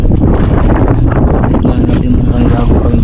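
Strong wind buffets the microphone steadily at a seaside fishing spot, a loud continuous roar with a faint low hum running beneath.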